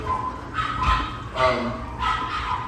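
Several dogs in a bare garage bark excitedly in three loud, close bursts, with yips and whimpers mixed in.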